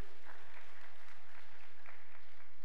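Congregation applauding at a revival prayer meeting at Osanri Prayer Mountain, a steady wash of many hands clapping at moderate distance over a low hum, with no voices standing out.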